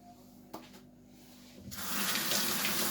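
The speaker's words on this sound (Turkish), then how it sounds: "Ellerimi bir yıkayayım bir daha." A kitchen tap is turned on to wash hands while making french fries; after quiet rustling and a small knock, the water gushes in and runs steadily and close.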